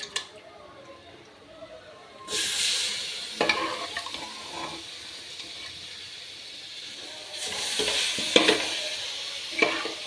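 Cooked chicken giblets, heart, liver and gizzard, are tipped into a hot pan and stirred, with soft sizzling and scraping that swells in two bursts between quieter stretches.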